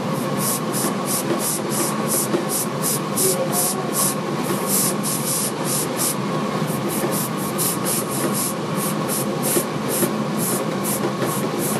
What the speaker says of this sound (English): now I take the airbrush